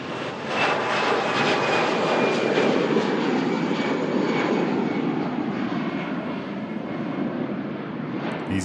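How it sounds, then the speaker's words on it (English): EasyJet Airbus A320 jet taxiing at Manchester Airport, a steady broadband engine roar with a high whine, heard from some distance and holding level throughout. "EasyJet Europe aircraft on the way out to Palma de Mallorca."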